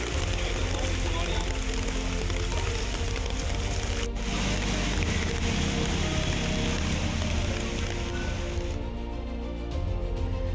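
Heavy rain pours steadily in Delhi with a loud, dense hiss of water splashing on surfaces, a continuous wash of sound that thins slightly near the end.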